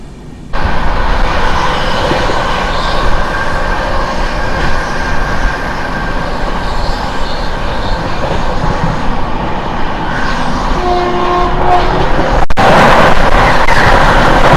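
Charminar SF Express train running after leaving Chirala, a steady loud rumble of wheels and carriages throughout, with a brief tonal squeal or whistle near the end and a sharp transient around twelve seconds.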